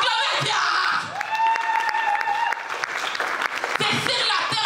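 A church congregation applauds and acclaims God in loud, steady clapping with shouts of praise mixed in. Sustained tones from a keyboard or organ run underneath.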